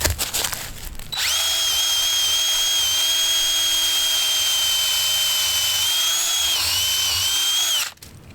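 A power drill bores a hole through a wooden beam for a grown-up sized swing set, running loud and steady for about seven seconds with a high whine before spinning down and stopping.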